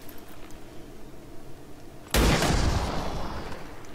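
A sudden loud gunshot in the turn-based tactics video game XCOM 2 cracks after two seconds of quiet ambience, followed by a sustained booming decay.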